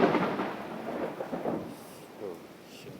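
Thunder rumbles through steady rain over a rural village, a low rolling roar that swells loudest at the start and then fades beneath the continuous hiss of rainfall.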